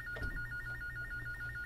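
A telephone rings steadily with a high repeating electronic trill, fairly faint over a low background hum, no voices.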